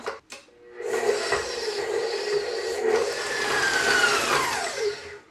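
An electric mixer creams softened butter with sugars for gluten-free chocolate chip cookies, running as one steady, continuous whir for several seconds with no talking.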